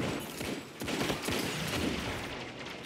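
Rapid pulse rifle fire in Destiny 2 player-versus-player combat, a dense run of close, loud bursts layered with impacts and game effects, with no talking.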